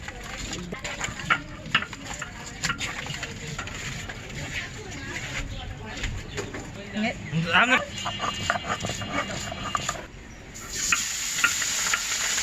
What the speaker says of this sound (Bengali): এখন মাছ দিয়ে আমি ভাজবো